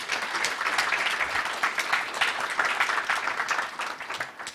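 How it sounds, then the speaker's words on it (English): A conference audience at a CHRO conclave gives a panelist a sustained round of applause, dense and moderately loud, lasting several seconds with no speech over it. "so give him a big applause."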